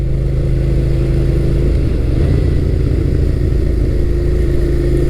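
A Suzuki SV650 motorcycle, 2003 to 2008 second generation, runs at steady speed on the road, its engine giving a loud continuous low drone with a smooth, even throb over wind noise.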